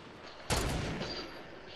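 A single loud, close burst of gunfire in the Fortnite video game bursts out suddenly and then decays into a lingering rumble, with no talk over it.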